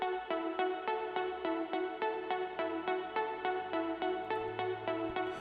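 Synthesized bell-like pluck built in FL Studio for a trapsoul beat, playing an even, repeating run of bright plucked notes with short decays, loud and alone over a soft low bass.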